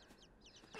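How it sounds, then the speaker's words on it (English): Small chicks in the game INSIDE give faint, brief chirping and clucking calls, a few soft peeps close together over a low ambient hum. "I hear my little birds!"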